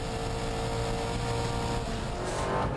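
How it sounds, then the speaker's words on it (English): A Touring Car Masters Camaro at Phillip Island circuit roars through a flying lap, its engine a loud, sustained race-car drone heard up close from onboard with shifting pitch near the end. "It's a flying lap in a Touring Car Masters Camaro at Phillip Island."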